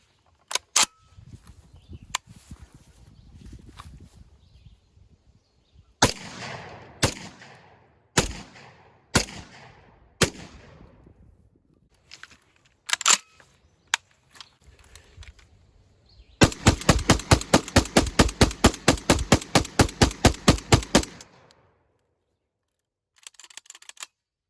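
Panzer Ranch shotgun with a drum magazine firing a series of sharp, loud shots, first spaced apart and then in a rapid string of quick blasts, with mechanical clicks between them.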